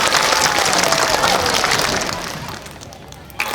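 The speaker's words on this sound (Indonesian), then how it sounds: "Tepuk tangan yang meriah untuk Dharma Suara." Enthusiastic crowd applause for a Balinese gamelan group's tabuh performance at a bondres drama show, dense and loud at first, then thinning out toward the end, with a voice faintly underneath.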